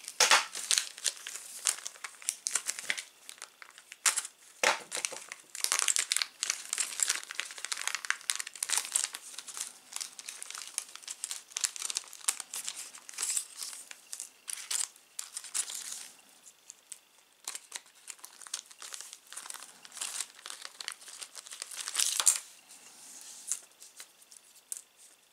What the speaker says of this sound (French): dans cette petite pochette, on a reçu pas mal de petites pièces que je vais tout de suite déballer